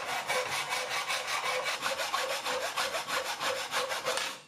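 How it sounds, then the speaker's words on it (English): A hacksaw cuts through an aluminum flat bar 3/4 inch wide and 1/8 inch thick, giving a close, steady rhythm of about twenty rasping back-and-forth strokes with no talking. "I got a piece of aluminum flat bar that was 3/4 inches wide by 1/8 inch thick, and cut it with a hacksaw to 17 inches long."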